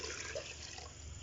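About 1.5 litres of water pours into a cooking pot for chicken daal, a faint, continuous splashing gurgle lasting about a second, with no talking.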